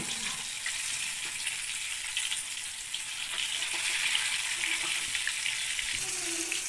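Chapala fish frying in a shallow layer of oil in a pan, giving off a steady, dense sizzle that holds evenly throughout with no talking.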